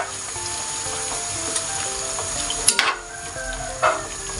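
Pork igado meat sizzles steadily in a hot pan as a utensil stirs and scrapes against the metal, with a couple of sharper clinks, close and without talking.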